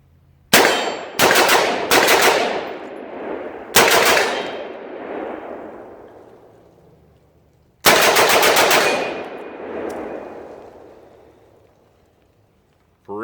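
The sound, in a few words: gunshots from AR rifle with Tac Con trigger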